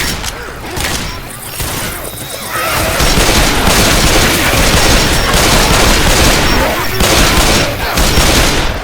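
Rapid pistol gunfire in the zombie video game Dark Carnival, a dense run of shots growing louder and continuous after a few seconds, with booming impacts mixed in.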